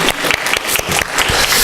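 Church congregation applauding in celebration, a dense burst of many hands clapping close by, steady and loud throughout.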